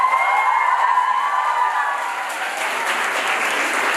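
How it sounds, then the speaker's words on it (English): A room full of people at a formal event clapping steadily together for a moderator, dense and sustained, with a few cheers rising over the applause. "Can we give a round of applause to our moderator?"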